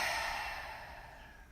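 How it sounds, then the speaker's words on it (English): A long, soft exhale through the mouth during a yoga breathing exercise, a single close breathy sigh that slowly fades, with no talking. "Take one full inhale through the nose. And exhale through the mouth."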